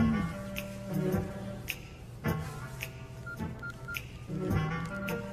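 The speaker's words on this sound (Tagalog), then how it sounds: "Ringtone ko yun." A mobile phone plays a melodic tonal ringtone in repeating phrases of short beeping notes, fairly close and clear above a low room background.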